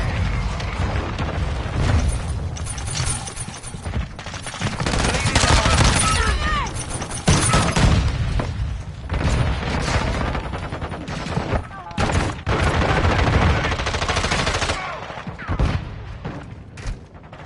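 Video game combat: bursts of automatic gunfire and booming mortar strike explosions, loud and dense, with heavy blasts and rattling fusillades repeating across the stretch.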